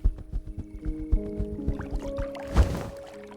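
Oars splash and knock as a boat is rowed in the video game Cabernet, a series of soft rhythmic thumps and watery swishes over a low musical drone, building to a fuller splash near the end.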